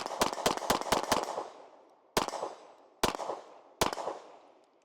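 A Nighthawk Sandhawk single-stack pistol fires seven sharp, loud shots, each with a short echo. Five come in a quick burst, then two spaced singles follow, with no talk.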